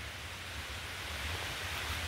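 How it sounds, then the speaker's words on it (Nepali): Heavy monsoon rain pouring in a jungle, a dense, even hiss of water that stays steady throughout with no voices. "बर्खाको झरी छ अहिले"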